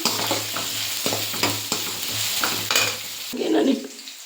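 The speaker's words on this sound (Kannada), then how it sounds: "ಈಗ ಇದಿಷ್ಟನ್ನು ಫ್ರೈ ಮಾಡ್ತೀನಿ ಇಷ್ಟು ಚೆನ್ನಾಗಿ ಫ್ರೈ ಆಗಬೇಕು ರೆಡ್ ಕಲರ್ ಬರಬೇಕು" Ginger and spices fry in a pan for a field bean sambar, a steady sizzle punctuated by regular scraping stirs about every half second before quieting at the end.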